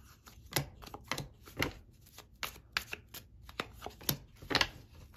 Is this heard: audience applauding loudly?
no